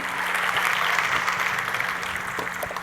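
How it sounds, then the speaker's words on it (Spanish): A church congregation applauding loudly and steadily throughout, a dense even wash of clapping close around with no voices. "Dele un aplauso fuerte al Señor"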